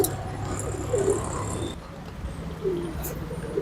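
Pigeons at a public feeding spot with grain and water give soft, repeated coos over a steady outdoor background hum, with a few faint chirps.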